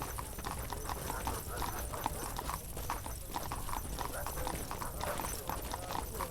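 Horse hooves clip-clop in the video game 1428: Shadows over Silesia, a brisk steady rhythm of close, even hoofbeats running continuously throughout.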